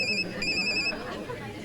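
A telephone in a Bollywood film scene rings with two short electronic bursts of tones, heard under people talking nearby, before the ringing stops and the voices continue.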